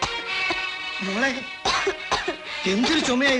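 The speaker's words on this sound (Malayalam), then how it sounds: "എന്തൊരു ചുമയായത്?" Raspy coughing from a sick man in a Malayalam film scene, a few close bursts between short strained vocal sounds.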